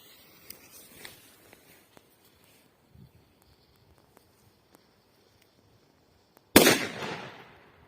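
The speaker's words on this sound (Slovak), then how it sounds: "Ďalej petarda Dum Bum 120." A Dum Bum 120 firecracker goes off in a single sharp, loud blast near the end, its noisy roar decaying over about a second after several quiet seconds of faint ticks and rustles.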